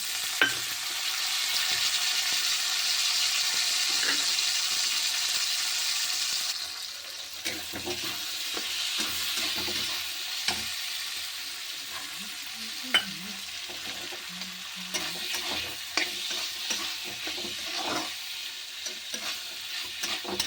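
Peas stir-fried over high heat, with a loud continuous sizzle at first that eases, then intermittent spatula scrapes and clinks against the pan, heard up close.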